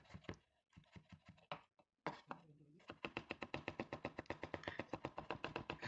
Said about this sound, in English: just press it like this, and then you can mince your ginger